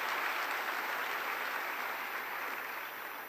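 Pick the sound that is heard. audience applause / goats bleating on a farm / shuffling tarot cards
audience applause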